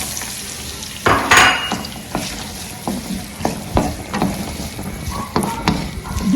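Carrots sizzle and fry in a pan with coconut oil, garlic and ginger, stirred in repeated scraping strokes that punctuate a steady close-up crackle of hot oil.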